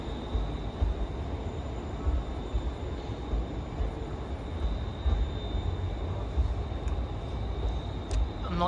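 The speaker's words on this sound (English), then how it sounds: "departing out there is another Scotrail service" ScotRail train departing Glasgow Central, a steady low rumbling roll under a faint high whine that carries on evenly throughout.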